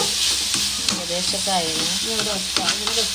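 Sliced onions sizzle and wilt in a pan for an egg dish, a steady close hiss of frying with spoon scrapes and stirring clatter throughout, and a faint voice murmuring underneath.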